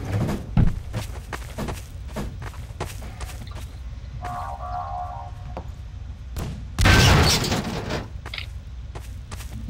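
Explosions in a Garry's Mod Prop Hunt match: a string of sharp cracks and bangs, with one loud boom near the end, over a noisy game background.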